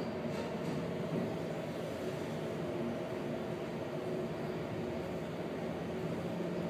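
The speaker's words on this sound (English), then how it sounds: "Quickly listen to this motor." A heights elevator motor at Track 2 of Secaucus Junction, New Jersey, gives off a steady, even mechanical hum and whir. It stays faint and unbroken, with no voices.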